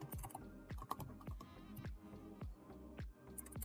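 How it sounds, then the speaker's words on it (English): Close computer keyboard typing, with quick irregular keystrokes and small pauses, as an email address is entered during Git setup. Quiet, with no speech. "So I'll just type my email there."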